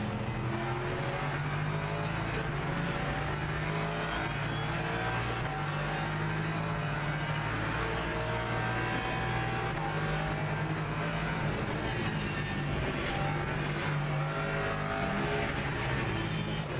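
Race car engines roar steadily throughout in Le Mans Ultimate, with a hypercar sweeping past amid the continuous drone of other cars on track; loud and unbroken, with no talking.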